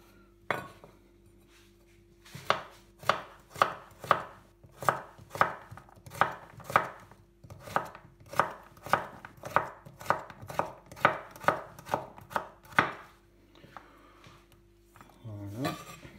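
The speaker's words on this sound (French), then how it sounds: "on commence par éplucher 3 pommes de terre. Et donc on va les couper à des tailles assez différentes." A knife chops peeled potatoes on a cutting board for a Spanish tortilla, a steady series of about twenty sharp, close knocks at an even rhythm, with a faint low hum beneath and no talk.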